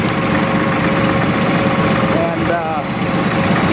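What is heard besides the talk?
Porsche tractor engine running at idle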